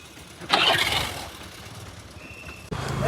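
A Honda Activa scooter engine starts up outdoors on a street, a short crank burst followed by a steady low idle, cutting briefly before the engine note resumes.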